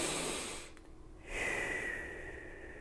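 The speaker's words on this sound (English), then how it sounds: "breathing in and breathing out." Slow, soft breathing in and out during a quiet meditation, an airy inhale followed by a brief pause and a longer exhale, close and faint with no other sound.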